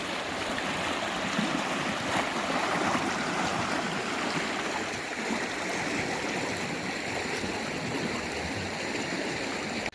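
Floodwater rushes along a swollen creek, a steady, loud broadband roar of flowing water that holds throughout without pause.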